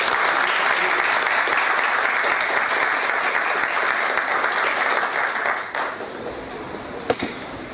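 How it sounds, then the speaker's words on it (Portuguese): Sustained, loud applause from an audience at a formal heraldic society opening ceremony fills the room, then thins out and fades toward the end, with a single sharp clap near the close. "Nossos aplausos calorosos."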